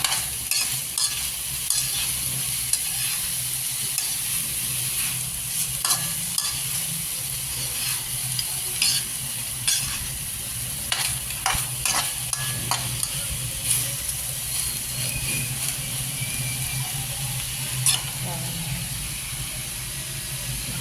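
Onion, garlic, ginger, pepper and tomato sauté in a pan with a constant hiss and sizzle, punctuated throughout by frequent short scrapes and taps of a spatula stirring, with no voices.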